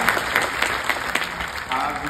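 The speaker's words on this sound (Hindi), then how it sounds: "एक अच्छी ताली होनी चाहिए" A seated audience at a startup conclave gives a brief burst of applause, fairly loud scattered claps over a couple of seconds, with voices blended in.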